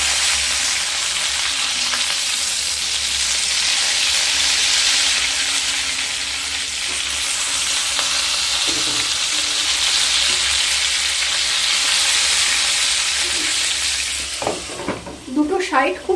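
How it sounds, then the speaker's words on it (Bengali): Eggplant slices fry in hot oil for hing begun, a loud, steady sizzle that holds for a long stretch, with a few utensil scrapes and clinks near the end. "দুটো সাইড খুব ভালোভাবে ভেজে নিয়ে তারপর ফিরে আসছি।"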